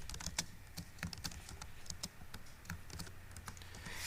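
Rapid, steady typing on a computer keyboard, with close, crisp keystrokes clattering throughout at a quiet level.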